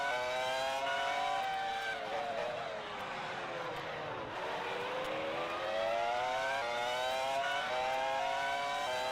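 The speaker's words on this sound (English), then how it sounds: "Tina turned up the engine to try and make a move" Several racing car engines in a 2003 San Marino Grand Prix racing video game scream at high revs without a break, their pitch rising and falling through gear changes as cars jostle closely, loud and steady.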